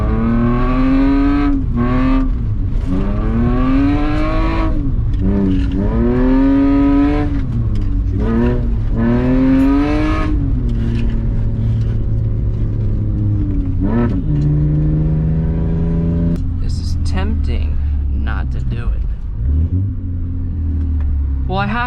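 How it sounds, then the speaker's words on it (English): A BMW E46 engine revs hard in repeated rising and falling bursts while the car drifts off-road, loud and close throughout with rumbling underneath. "let's try to drift this"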